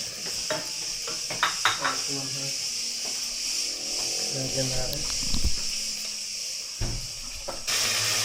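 Turon, banana spring rolls, fry in hot oil in a home kitchen with a steady soft sizzle throughout, a few clinks of a utensil against the pan, and faint background noise.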